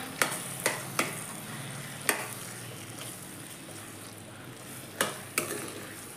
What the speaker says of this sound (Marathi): वाटाणे चांगले तेलात भाजायचे मसाल्याबरोबर